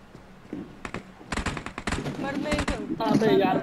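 Gunfire from the mobile game PUBG Mobile, including a shotgun, comes as rapid bursts of shots that grow denser toward the end, heard under players talking.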